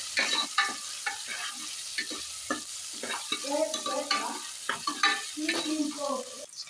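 Tomato fries in a pan while a spatula works through it, producing a run of close scraping strokes over a low sizzle in uneven bursts, without talk.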